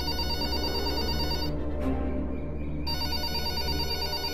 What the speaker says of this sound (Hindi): ए जी, देखिए तो आजकल लैंडलाइन पे कौन फोन करता है?